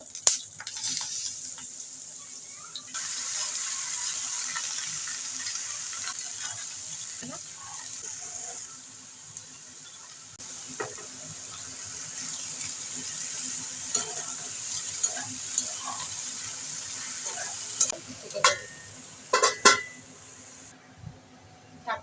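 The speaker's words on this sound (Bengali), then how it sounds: "তেলের মধ্যে আমি শুকনো লঙ্কা ফোড়ন দিয়ে দিচ্ছি একটা কাঁচা লঙ্কাটা দিয়ে দিচ্ছি একটু নাড়িয়ে চাড়িয়ে" Dried red chillies and a green chilli temper in hot oil, a soft steady sizzle with occasional stirring scrapes and clinks of a utensil in the pan, fairly close and low in level.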